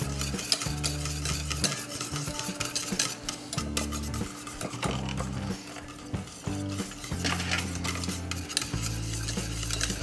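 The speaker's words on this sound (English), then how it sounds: "I'm just going to dump it in here. And I'm just going to go ahead and whisk it." A thickening sauce for meatloaf whisked steadily in a pan, a continuous rhythmic scraping and clicking of the whisk against metal, close and fairly loud, over a low sizzle.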